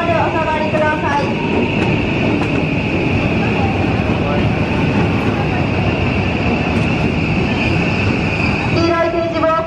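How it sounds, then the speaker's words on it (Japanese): A JR West 103 series electric train on the Osaka Loop Line pulls out of Kyobashi station on its last run, out of passenger service, a steady loud rumble of motors and wheels with a sustained tone, under platform announcements and a departure melody. "電車が発車いたします。"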